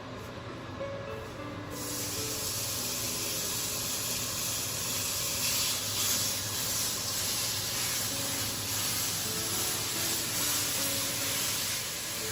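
Ground meat cooks in a pot for pumpkin chili, giving a steady, even sizzle and hiss that swells after a quieter start and holds constant throughout, close with no talking.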